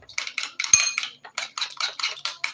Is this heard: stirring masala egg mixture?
yes